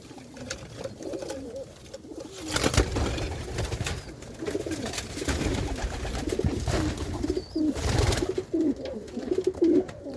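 Capuchine pigeons cooing at a breeding loft in Jamaica, repeated soft throaty coos with some wing flutters and handling noise, fairly close and moderately loud.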